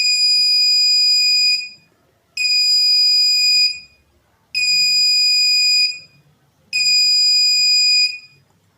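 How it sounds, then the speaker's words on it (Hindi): A buzzer on a transistorized object-detector circuit built on a breadboard sounds four loud, steady electronic tones, each about two seconds long, separated by short silences, with no voices. "अगर जैसे ही मैंने अपना हाथ ले लिया यानी कि बीच में से कोई ऑब्जेक्ट चला गया, तो ये बजर अपने आप ऑन हो जाएगा।"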